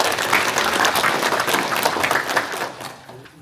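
At a general meeting of an apartment reconstruction association in Geoje, an audience gives steady applause to welcome the chairman, a dense, even patter of many hands that tapers off toward the end.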